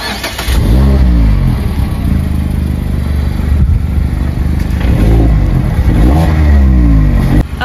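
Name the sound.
Mazda MX-5 engine starting with push-button start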